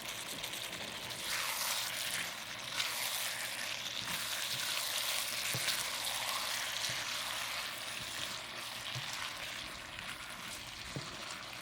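Onions sizzle and fry steadily in a hot pan, a continuous broadband crackle holding at a fairly even level throughout, with a few faint clicks of utensils and no voices.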